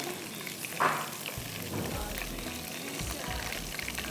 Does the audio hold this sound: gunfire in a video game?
no